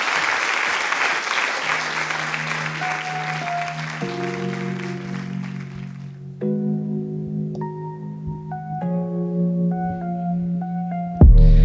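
An audience at a cabaret show applauds a singer, loud dense clapping that fades within a few seconds as sustained keyboard chords rise and carry on alone.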